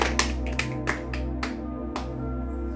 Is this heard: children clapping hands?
yes